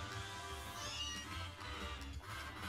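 A faint cat-like meow comes from a creature in the video game Pokémon Sword and Shield, quiet and set against background game sounds.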